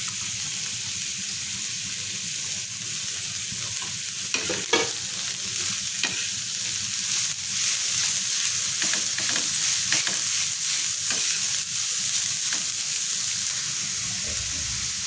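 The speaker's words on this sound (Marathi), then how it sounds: "शिमला मिरची आणि कोबी बारीक कट करून घेतलेली आहे। हे आपल्याला टाकून परतून घ्यायचे आहे।" Finely cut capsicum and cabbage with grated carrot sizzle steadily in a pan while being stir-fried, with occasional utensil scrapes and taps over a constant frying hiss and no talking.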